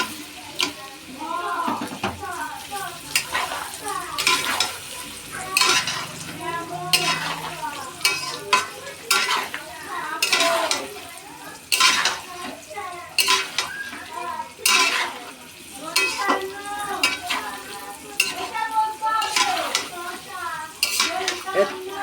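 Mango pieces stir-fried with turmeric in oil for pickle, with a rapid, continuous run of loud metal spoon scrapes and clatters against the pan over a steady sizzle, while a voice murmurs faintly in the background.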